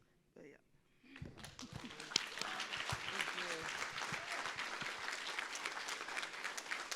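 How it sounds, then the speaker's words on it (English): At the closing of a Going Home Hawaii conference, a brief voice and a few claps give way to an audience breaking into applause. The clapping swells within a second and holds as a full, steady sound to the end. "One last time for applause for Les and the team of Going Home Hawaii"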